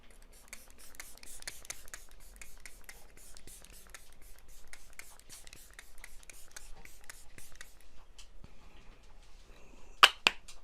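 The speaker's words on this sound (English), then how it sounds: "So let's go ahead and spray her down." Waterproof setting spray misted onto a made-up face, a rapid series of short, close hissing spritzes for about eight seconds, followed by a pause and two sharper bursts near the end.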